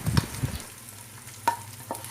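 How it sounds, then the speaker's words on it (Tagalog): Shredded cabbage mixed with egg fries in a pan with a soft, faint sizzle, broken by a few light scraping stirs from a utensil, with no talking. "We are now going to fry the cabbage with egg."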